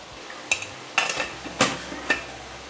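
Variety rice stirred in a pan for a lunch box: four distinct scraping clinks of a metal spoon against the pan, spaced about half a second apart, close and clear with no talk.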